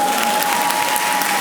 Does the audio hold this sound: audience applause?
yes